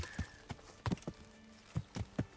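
Horse hooves clip-clopping in Kingdom Come: Deliverance, a loose rhythm of crisp, close knocks in small clusters with short gaps between them.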